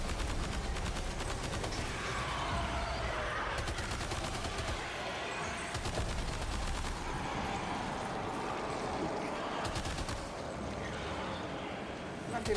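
Guns fire in Death Stranding 2 in long, rapid automatic bursts, loud and continuous with brief pauses, set against the game's ambient background.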